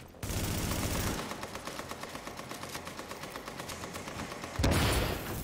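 Rapid automatic gunfire rattles in The Division during a firefight, a steady rhythmic burst of shots lasting several seconds, framed by louder blasts at the start and end.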